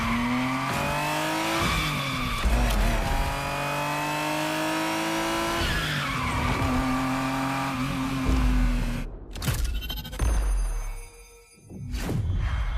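A Ferrari Testarossa in a racing video game revs hard through repeated rising gear pulls, then its tires squeal and skid near the end, with the engine loud and close.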